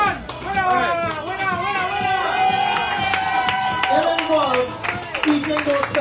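At a pepper eating contest in a shopping plaza, a crowd claps and cheers for the winner, steady applause mixed with children's voices and chatter throughout, with a loudspeaker voice talking over it.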